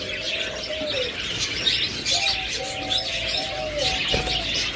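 Pet birds at a bird seller's stall chirp and coo continuously, with repeated tonal calls over a busy background of chatter and twittering.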